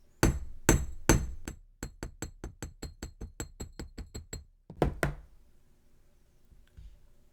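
A hammer flattens wire on a board while a tree of life pendant is made: a rapid run of sharp metallic taps, close and evenly paced, then a brief pause and two final strikes.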